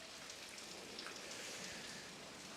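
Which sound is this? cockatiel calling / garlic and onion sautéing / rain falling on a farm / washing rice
rain falling on a farm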